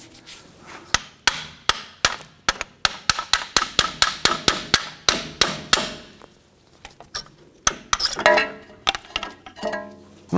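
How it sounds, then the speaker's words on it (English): A hammer strikes a brake caliper on a 1997-2006 Jeep Wrangler during a front brake job in a rapid, steady series of sharp, loud blows, then a pause and a few more scattered hits with clinking. "Sometimes you can give these a bonk with the hammer."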